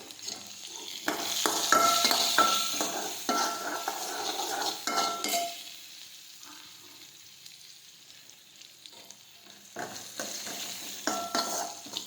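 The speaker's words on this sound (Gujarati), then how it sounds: "હવે આપણે સાતળી દઈશું." Ridge gourd and chillies sauté in a pan with salt and turmeric, a soft sizzle broken by repeated spoon scrapes and clinks against the pan, nearby and moderate, easing into quieter stretches before stirring resumes.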